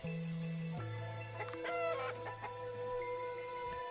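Chicken clucks in an RPG Maker video game, a few short clucking calls over a sustained background music tone, with no talk.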